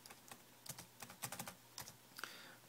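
Keys clatter on a computer keyboard as a folder name is entered during a Windows XP setup, a quiet, close run of uneven taps with short pauses and no speech.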